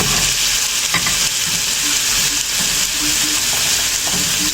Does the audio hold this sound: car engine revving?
no